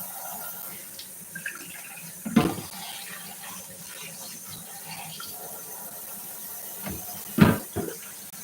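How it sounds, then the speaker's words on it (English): Water from a kitchen tap running into a pitcher, a soft steady trickle with a few louder clunks and splashes, close by and otherwise quiet. "Just putting water in the pitcher so I can put it in the refrigerator"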